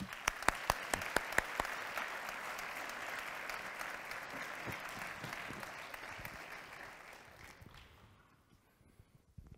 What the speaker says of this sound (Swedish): En applåd kan jag få.